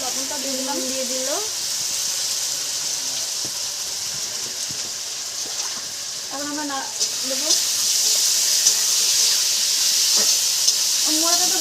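Fish rubbed with ginger, chili powder, turmeric and salt hisses in hot oil, a steady sizzle that grows louder after it goes in, while someone talks over it.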